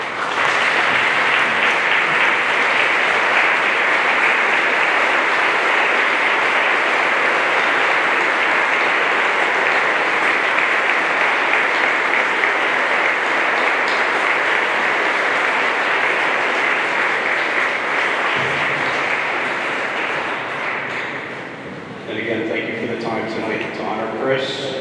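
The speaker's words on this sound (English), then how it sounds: "Please stand and give Chris and his family a round of applause" An audience at a sports recognition night gives Chris and his family a long standing ovation, a loud, sustained wash of many hands clapping that fades near the end as a voice begins speaking.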